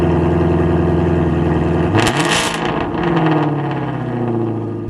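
A Ford Mustang GT350R sports car's exhaust, showing about 1,480 miles, drones at idle, then a sharp, loud rev flares up and falls back to a rumbling idle, heard close with no talk.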